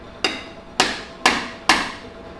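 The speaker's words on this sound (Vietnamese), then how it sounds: "Lấy búa." A hammer strikes four times at an even pace, each a sharp, loud metallic knock with a short ring, while brake parts are knocked loose during brake servicing on a Toyota Zace.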